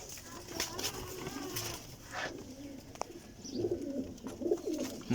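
Soft coos from Sialkoti black-faced pigeons repeat near the end, low and close, with background noise and a few brief rustles.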